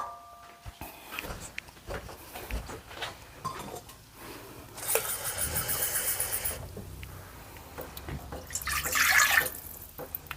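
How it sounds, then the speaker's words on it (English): Tap water runs into a measuring cup at a kitchen sink, a steady hissing splash that swells louder midway and again near the end, with scattered clinks and handling noises around it. "I'm going to finish filling this up to 1 cup with water"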